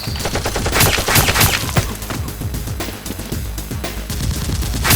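Nerf toy blasters firing in a mock fight, a dense, continuous clatter of rapid sharp pops and snaps, loud and close, with no talk.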